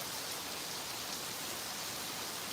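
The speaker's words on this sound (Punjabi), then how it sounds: "ਆਹ ਦੇਖ ਲਓ ਬਹੁਤ ਬਾਰਿਸ਼ ਹੋ ਰਹੀ ਹੈ ਜੀ ਬਹੁਤ ਜ਼ਿਆਦਾ" Heavy rain pours onto a house roof in a dense, unbroken hiss, steady and even throughout with no voices.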